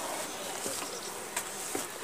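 Honeybees at a hive in early March, a soft continuous buzzing hum with faint brief knocks, fairly quiet and with no voices.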